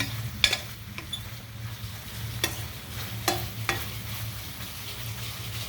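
Hotdogs fry in a pan with onion and seasoning as a steady sizzle, while a utensil stirs them in several sharp scrapes and clicks across the clip; close and fairly quiet, with no voices.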